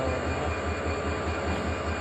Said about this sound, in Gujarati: પાછળ ટ્રેન છે, આપણી ટ્રેન આવશે આ બાજુથી